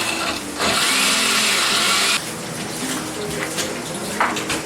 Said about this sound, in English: And about a cup of water goes in.